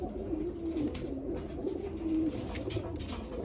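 Modena pigeons cooing at close range, a few soft rolling low coos in steady succession against a quiet background of other birds.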